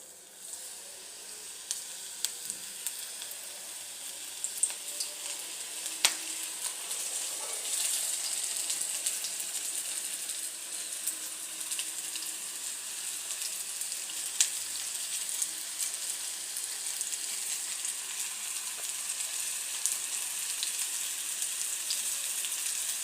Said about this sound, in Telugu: గోల్డెన్ కలర్లో వచ్చేలాగా వేయించుకుందాం.